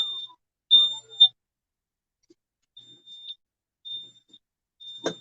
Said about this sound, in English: now y'all can turn the fan on so the alarm can shut up